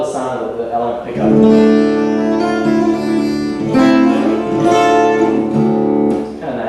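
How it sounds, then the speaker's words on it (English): Acoustic guitar played fully through an element pickup rings out with strummed and percussive tapped chords, bright and direct, loud and close with sustained tones and no talking. "I really love the sound of the element pickup."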